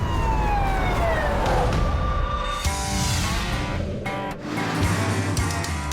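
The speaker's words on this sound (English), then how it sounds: "Ambulance coming right now." A wailing ambulance siren sweeps up and down, loud and close, with traffic rumble underneath and no talking.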